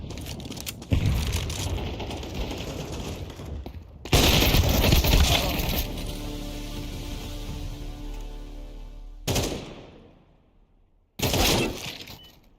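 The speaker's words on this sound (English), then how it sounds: "I'm throwing a grenade!" Grenade blasts and heavy gunfire in a Counter-Strike 2 match, with loud bursts at the start and near four seconds, a long ringing rumble that fades, then two more sharp loud bursts, no talk.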